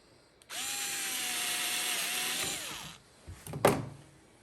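A power drill bores a pilot hole for deck screws while a table saw caddy is built with a 1-2-3 block as a guide. One steady, loud whining run lasts a couple of seconds and winds down, followed by a short clatter.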